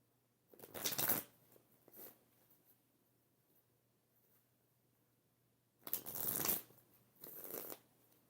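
A deck of cards being shuffled by hand, with two riffle bursts near the start and two more later, separated by quiet gaps, close and fairly soft.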